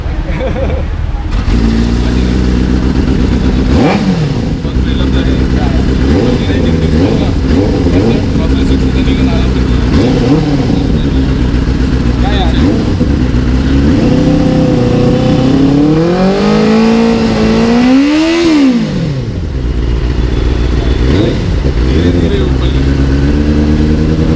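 Kawasaki motorcycles ridden in a group at a subscribers' meet-up in Mumbai, engines droning steadily and revving up and down, with a rider talking continuously over the engine noise throughout.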